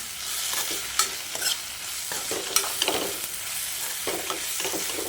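Onions with black pepper stir-fry in a hot pan, a steady sizzle broken by repeated sharp scrapes and clinks of a spatula stirring, close and fairly loud, no talking.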